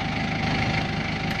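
A diesel forklift engine idles steadily close by, giving off a continuous low rumble with rhythmic mechanical knocking. No voices are heard.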